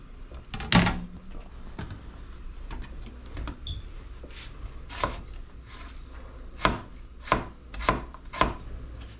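A knife chops through bell pepper on a cutting board, with irregular sharp strikes, some near and loud, spaced apart amid a quiet kitchen.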